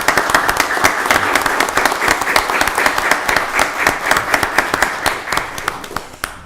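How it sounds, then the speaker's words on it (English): Audience applause at a county board of commissioners meeting for an attorney: dense, loud clapping from a room full of people, steady and sustained with crisp individual claps, tapering slightly near the end. "Let's give Attorney Coleman a round of applause."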